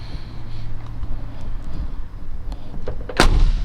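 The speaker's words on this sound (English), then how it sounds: "Doors shut nice. I'll do that again for you since I have the camera up." A 1966 Ford Mustang coupe door closes with a single solid, close thump near the end, after a stretch of quiet low rumble and a few small clicks.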